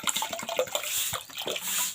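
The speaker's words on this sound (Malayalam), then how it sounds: "വെള്ളം ഇങ്ങനെ ഒഴിച്ചു കൊടുക്കാം" Water is poured into a container for mixing a homemade weed killer for a yard's grass, a brief splashing, gurgling stream with uneven surges, close and fairly loud, no talking.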